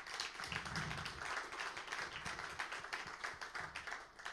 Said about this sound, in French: je voudrais remercier toutes les équipes du CIRA pour la qualité du travail qu'elles font, en France, à l'international, parce que je crois qu'on peut les applaudir